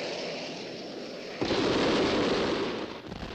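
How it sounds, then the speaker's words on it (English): Cartoon explosion from lit-fuse fireworks: a steady hiss of a burning fuse builds, then a sudden loud broadband blast erupts and rumbles for a couple of seconds before tapering off, with no voices. "When I give the word, you light the fuse, and it's kablooey, Tom Slick."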